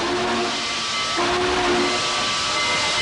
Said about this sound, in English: A freight train lumbers out of the Ogden train depot and into the cold, black air.